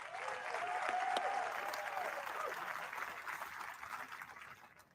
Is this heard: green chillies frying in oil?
no